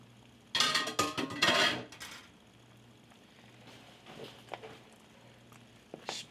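Spoon scraping and clinking against a pan while sauce is spooned over pork chops, a cluster of loud metallic taps and scrapes followed by faint sizzling and occasional soft clicks.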